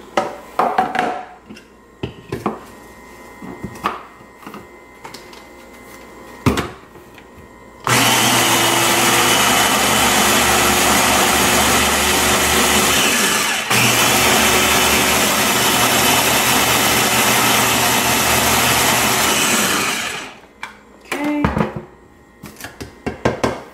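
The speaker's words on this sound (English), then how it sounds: "Now I'm gonna go ahead and put it in the blender" A blender whirs loudly and steadily for about twelve seconds blending a banana mixture, with a brief hitch midway, bracketed by quieter kitchen clatter before and after.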